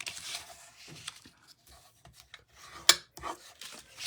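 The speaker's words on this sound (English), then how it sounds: "So let's burnish those folds." Paper folds are pressed and burnished by hand, giving faint dry rubbing and scraping swishes with a few soft taps, close and quiet.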